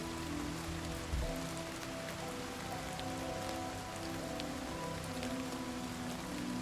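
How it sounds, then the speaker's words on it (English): Steady rain falls across the open world of the video game Oblivion Remastered, a dense, even patter held at a constant level with faint tonal game ambience beneath and no voices. "Just listen to the rain for a moment."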